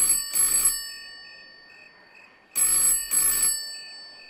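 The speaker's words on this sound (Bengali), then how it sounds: "ফোনটা রাখার 1 মিনিটের মধ্যেই ফোনটা আবার বেজে উঠল।" A telephone rings in two bursts of bell-like trills with a pause between, close and loud, with no one speaking.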